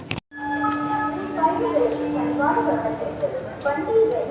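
Boat Mail Express train departing Villupuram station: a sustained horn tone sounds over a rumbling, rolling carriage noise, with a voice talking over it.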